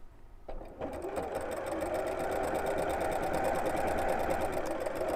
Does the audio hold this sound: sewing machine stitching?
yes